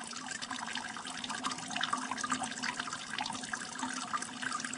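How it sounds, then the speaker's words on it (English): Water runs steadily as a continuous rushing, splashing stream, moderately faint but constant throughout, with no talk over it. "You can hear this water running."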